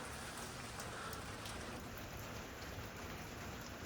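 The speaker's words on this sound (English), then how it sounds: "it sounds like rain. It's like I said, it's a rain snow mix going on right now." Steady rain and snow mix falling outdoors on Long Island, a dense continuous hiss of drops pattering on surfaces, even and unbroken throughout, with no voices.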